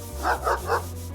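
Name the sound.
angry dog barking in video game Chained Echoes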